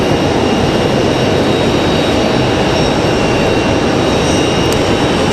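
Airliner jet engines roar steadily and loudly on landing approach at Raleigh-Durham International, a dense, unbroken broadband rush with no voices.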